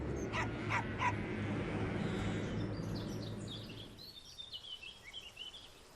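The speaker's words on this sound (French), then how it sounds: "Faux espoir. C'est seulement un chien." A few sharp dog barks close by in the first second, near a ruined Mediterranean village, over a steady low rumble, then quieter ambience with faint chirps.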